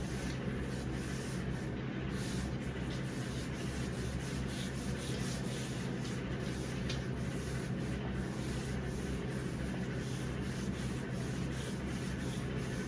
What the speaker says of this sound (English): you're just going to rub some cornstarch all over the inner tube